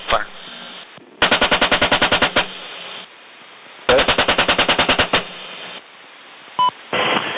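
Attack helicopter gun firing two long rapid bursts at ground targets in Afghanistan or Iraq, each a loud stuttering string of shots, heard over steady rotor and radio hiss, with a brief radio beep near the end.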